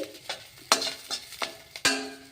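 Greens and curry leaves being roasted in a pan, with repeated spoon scrapes and stirring clinks in an uneven rhythm over a soft sizzle, close and moderately loud.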